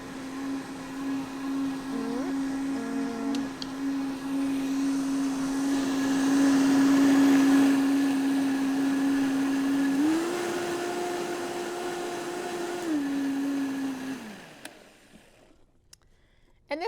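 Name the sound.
blender blending onion and peppers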